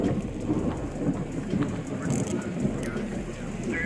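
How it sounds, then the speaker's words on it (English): A rainstorm with thunder, steady heavy rain pouring on surfaces with low rumbling throughout, loud and continuous, with no voices. "It sure is an ominous scene with all that rain and thunder and lightning."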